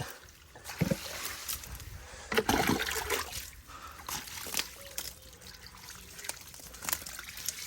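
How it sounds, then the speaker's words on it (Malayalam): Water trickles and splashes steadily onto garden plants, close by, with irregular sloshing and dribbling bursts throughout. "അപ്പോൾ വീണ്ടും നനയ്ക്കാനുള്ള സമയമായിട്ടുണ്ട്"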